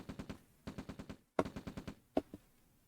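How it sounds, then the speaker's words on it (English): Red Alert base defence guns firing on an APC, producing short bursts of rapid, evenly spaced gunshots separated by brief pauses, followed by a couple of isolated louder shots, fairly faint and with no talking. "his base defence is shooting the APC"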